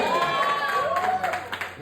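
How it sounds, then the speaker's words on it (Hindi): A crowd at a Hindu religious gathering, during a telling of a wedding-vows story, claps for a couple. Rhythmic clapping builds under a sustained, sliding voice or tone in a lively, reverberant hall. "जोरदार तालियां बजाओ उनके लिए।"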